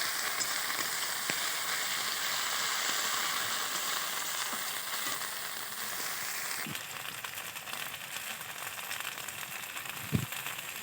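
Onion paste and spices frying together in a pan for a chela fish jhal, a soft continuous sizzle with occasional light stirring taps and one sharper knock near the end.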